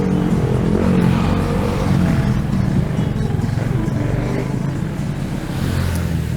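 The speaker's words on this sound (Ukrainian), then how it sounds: "оце який тут, до речі, буде звук за цими всіми моторами" Several vehicle motors run close by in a loud, steady mechanical drone with a deep rumble that never lets up, with no clear voices over it.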